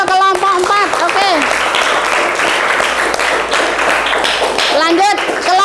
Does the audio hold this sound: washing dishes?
no